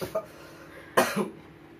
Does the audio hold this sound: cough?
yes